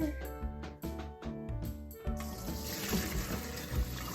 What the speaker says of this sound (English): Then dump the rest of the water out into your big colander